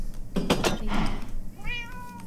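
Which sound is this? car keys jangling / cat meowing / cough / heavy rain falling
cat meowing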